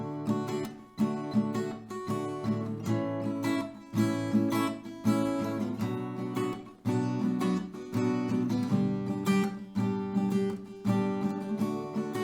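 Acoustic guitar strumming the chord progression of a song in a steady down-down-up rhythm, close and clear, with chord changes every couple of seconds and no talking.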